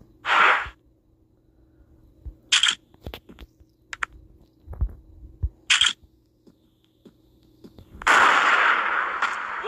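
Sharp sniper rifle shots ring out in a hunting video game, a few crisp isolated cracks spaced apart among clicks, ending in a longer noisy burst, with no talking.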